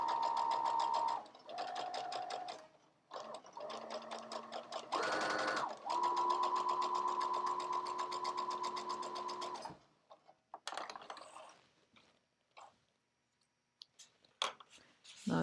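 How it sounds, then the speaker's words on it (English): A sewing machine stitches along the very edge of a shirt sleeve, running in loud, steady bursts with short stops, then falling to quieter intermittent clicks and handling sounds. "I sew on the very edge of the sleeve."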